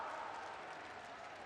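Audience applause at Prime Minister Narendra Modi's public meeting in Chittorgarh, Rajasthan: a steady wash of crowd clapping at moderate level, brief and continuous without a break.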